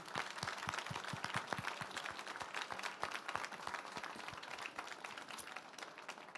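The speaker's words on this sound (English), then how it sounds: "also a big round of applause to our panelists" A conference audience applauds the panelists at the close of a panel discussion, faint and somewhat distant scattered hand claps spread across the room.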